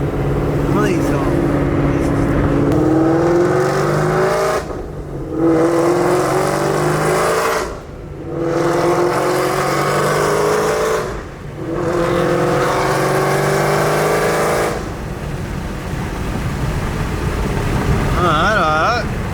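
A Corvette Z06 engine revs hard and accelerates close by, its loud continuous roar broken by brief drops between gears, with people talking over it throughout.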